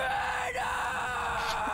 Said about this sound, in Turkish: Ya kadının bağırması komik.